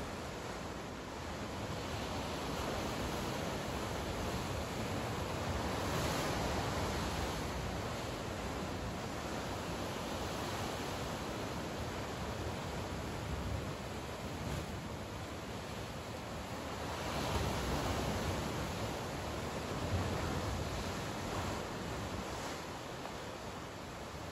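Sea waves wash in continuously along the shore, a broad rushing surf that swells and recedes in slow surges, with some wind mixed in and no voices.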